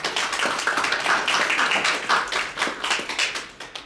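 An audience at a launch ceremony in a press center hall claps for a lawmaker, brisk, dense applause rising and falling in waves for a few seconds with no talk over it.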